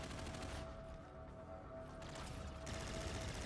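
Rapid automatic fire from the ERAD gun in Call of Duty: Infinite Warfare, a dense continuous burst of shots running nearly the whole time, loud and steady with slight swells.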